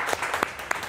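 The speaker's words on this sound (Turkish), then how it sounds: "Aslıhan'a bir alkış alalım" Studio audience applause for a contestant on a Turkish cooking-competition show, a short burst of scattered clapping with a few sharper hand claps standing out, fairly soft and steady throughout.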